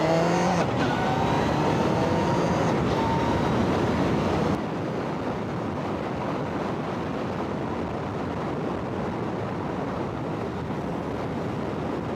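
Car traffic rushes past in a steady broad roar that starts louder, then drops off sharply and carries on as a lower, continuous road wash, with no voices.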